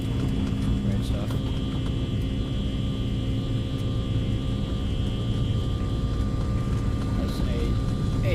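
Airliner engines spool to takeoff thrust in a flight simulator game, making a constant, loud, even roar with a steady tonal hum and no pauses.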